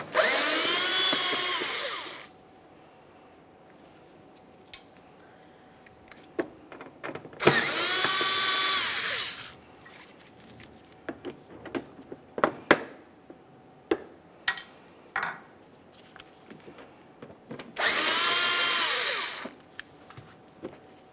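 Power screwdriver or drill backing Phillips head screws out of the front wheel well trim on a 2015-2019 Subaru Outback, three loud whirring bursts of a couple of seconds each separated by quieter clicks and handling noises.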